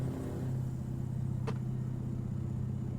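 A truck engine in Euro Truck Simulator 2 holds a steady, low rumbling drone at even volume throughout, with one brief tonal blip partway through.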